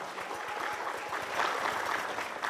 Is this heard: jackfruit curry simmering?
no